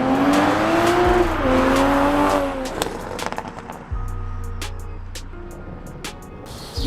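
Toyota Supra MKV exhaust with a Boost Logic catless downpipe, a loud rev that rises and falls as the car drives off, followed by a lower steady drone and scattered crackles and pops.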